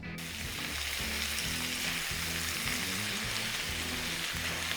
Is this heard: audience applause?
no